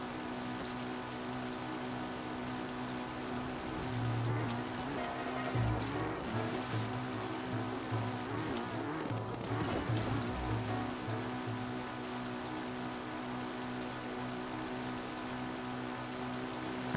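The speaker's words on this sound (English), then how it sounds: "I hate when it's raining here" Rain pattering steadily in Zelda: Breath of the Wild, a soft continuous wash with low game music tones and a few brief bumps underneath, no voices.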